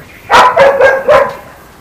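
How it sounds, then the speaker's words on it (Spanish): A pet dog barks four times in quick succession while playing with a child, the sharp close barks rising and fading over less than two seconds. "ahí está mi hija jugando con la perra"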